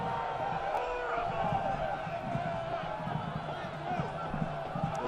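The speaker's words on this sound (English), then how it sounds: "You hear the roars from the crowd." Crowd noise at a Phoenix Rising FC versus LA Galaxy II soccer match, a broad, steady wash of distant stadium voices with some swelling, while a commentator talks over it.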